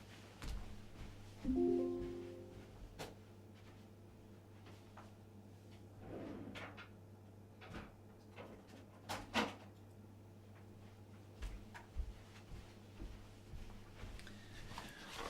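A drawer of spare computer parts is rummaged through, with scattered clunks, slides and small rattles of objects shifting at close range over a low steady hum, with no talk.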